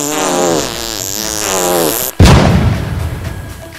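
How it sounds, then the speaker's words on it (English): A loud, abrupt fart sound effect bursts out after a stretch of singing, rumbling and fading over about a second and a half. "Sound of my fart."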